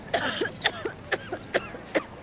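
A woman in the film The Bye Bye Man coughs repeatedly, five or six short harsh bursts in an uneven rhythm, close and fairly clear against a quiet background.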